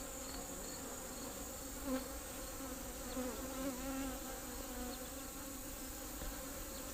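Honey bees buzz steadily around an open hive during an inspection, a continuous droning hum with a few louder passes as bees fly close, and no talking.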